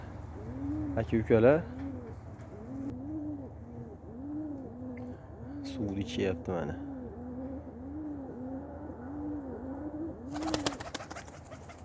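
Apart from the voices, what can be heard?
pigeons cooing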